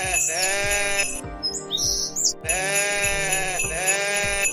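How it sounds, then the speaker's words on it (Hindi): A herd of goats bleats in a series of loud, wavering calls, one after another, over a regular low thumping pulse, with a short quieter gap in the middle. "इस वक्त जब उसने बकरियों के गिले में घंटी बजी हुई सुनी"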